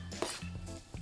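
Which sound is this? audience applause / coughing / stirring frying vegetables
stirring frying vegetables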